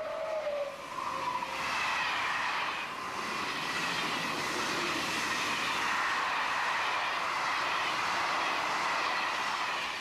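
Belgian Class 18 electric locomotive running, a steady loud rumble with a long continuous rush of motion noise that holds throughout, a short higher whine near the start and no voices.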